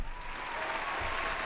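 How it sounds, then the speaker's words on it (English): Steady applause from a crowd, dense clapping at an even level throughout, with no voices standing out. "here's a round of applause for Endo Shellington."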